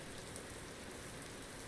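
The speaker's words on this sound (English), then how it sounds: "I'll leave you with this stunning view of the rain" Steady rain in Euro Truck Simulator 2 hisses evenly and densely throughout, close and constant with no other sounds.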